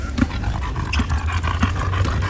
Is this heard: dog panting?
yes